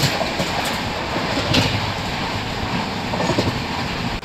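The Falaknuma Express runs at over 130 km/h non-stop past a small station, a loud continuous rumble and roar heard from inside the train with faint rhythmic clatter and no talk.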